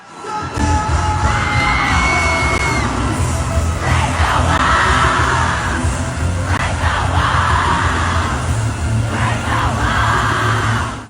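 A large crowd sings along and cheers loudly at a K-pop concert in Chicago, a dense, sustained roar of many voices with swelling shouts.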